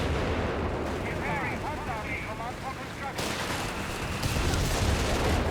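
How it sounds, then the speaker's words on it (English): Artillery barrage fire in Company of Heroes 3, a 2v2 match, with dense rumbling booms and crackling battle noise rolling continuously beneath a commentator's voice. "Could be using the creeping barrage on that."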